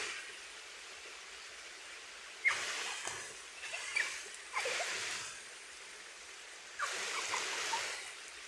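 A stream of water at an amusement park on a hot summer day splashes in several separate bursts, a bright rushing hiss lasting about a second each, close by, with quiet gaps between.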